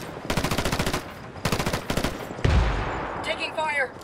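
Automatic gunfire in Ghost Recon Wildlands: two rapid bursts of evenly spaced shots, then a heavier blast followed by scattered hits and a voice, loud and close.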